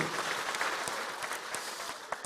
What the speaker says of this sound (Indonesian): Tepuk tangan dulu yang meriah begitu